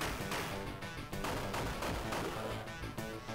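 Dense, continuous gunfire from the True Lies video game, with rapid overlapping shots and a steady, loud, harsh crackle and no pauses for the whole stretch.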